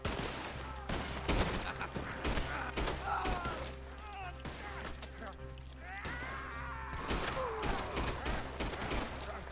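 Rapid gunfire volleys crack in Red Dead Redemption II, a dense cluster of loud shots followed by sporadic single shots, with horse and other game sounds in the mix and people talking over it.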